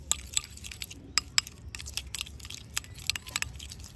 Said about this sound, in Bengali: এবারে এইভাবে উপকরণগুলো ভালো করে মিশিয়ে নেব।